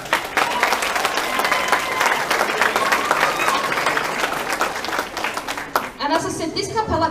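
Loud, dense applause from a club audience at a Christmas showcase for singers, sustained clapping that fills the room before a voice begins speaking near the end.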